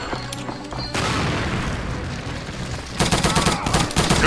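Grenade blasts in The Saboteur video game, loud booming bursts with gunfire-like crackle, a sustained roar and a second burst of sharp reports near the end.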